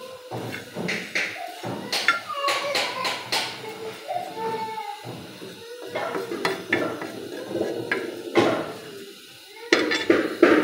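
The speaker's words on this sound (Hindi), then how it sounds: "कुछ भी नहीं डालना, यही बस सौंफ की बुनाई करनी है" Fennel seeds dry-roasted on a tawa with nothing added, stirred with a spatula into light brown, giving repeated scraping and clinking strokes against the hot metal pan at close range, some louder knocks, with no talk.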